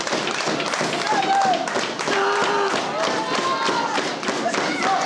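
A wrestling arena crowd claps steadily in a dense, rhythmic patter that runs throughout, with commentary over it.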